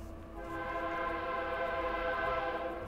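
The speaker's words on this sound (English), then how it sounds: "Oh, there's a train for y'all." A passing train sounds its horn in a long, steady, loud blare over a low rail rumble, heard from a tiny home on wheels.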